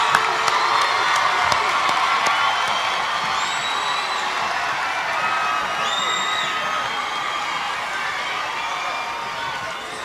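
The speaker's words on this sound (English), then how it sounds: "Signifying graduation, give them a round of applause." A crowd at the Merrillville High School Class of 2025 graduation ceremony breaks into sustained applause and cheering, with whoops and shouts rising above the steady clapping and a few whistles.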